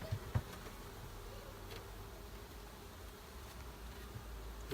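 Honeybees hum in a soft, continuous drone around an open hive during an inspection, faint and steady with a few slightly nearer passes, no voices.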